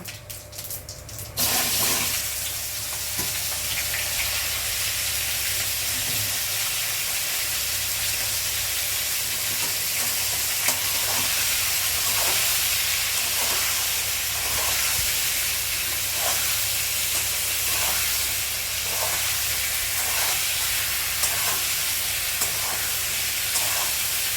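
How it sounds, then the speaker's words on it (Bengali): Cumin seeds temper in hot oil for a ridge gourd, potato and tilapia curry, giving a broad, steady hiss that holds at an even level after a short burst at the start, with faint ticks and crackles throughout. "জিরে ফোড়ন দিল তরকারিতে, ঝিঙে আলু আর তেলাপিয়া মাছের তরকারিটায়"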